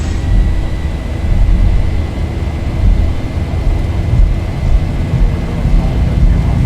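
Zibo 737-800 engines spooling to takeoff thrust in the X-Plane flight simulator, departing Philadelphia: a loud, steady low roar with a faint high tonal whine, continuous throughout.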